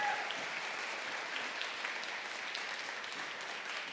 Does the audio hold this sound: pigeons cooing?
no